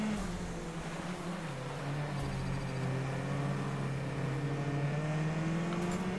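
A rally car engine in the Gravel racing game holds a steady, droning rev while driving gently on snow and ice, with a sustained tone that rises slightly and then eases across the stretch.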